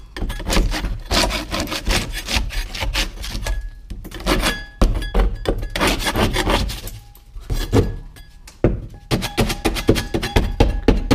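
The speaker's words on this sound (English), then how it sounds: "I'm gonna use a scraper to scrape off all the damaged paint." A hand scraper rasps and scrapes water-damaged paint off a drywall ceiling in long, loud, repeated strokes with brief pauses between them.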